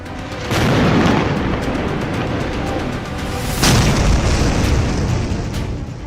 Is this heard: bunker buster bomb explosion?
yes